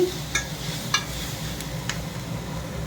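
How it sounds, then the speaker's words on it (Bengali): A spatula scrapes and stirs chow mein frying in a pan, a few distinct metallic clinks and scrapes over a soft, steady sizzle, close and unaccompanied by voices. "চাউমিন বানাচ্ছিস কি সুন্দর করে খুন্তি নাড়িয়ে নাড়িয়ে"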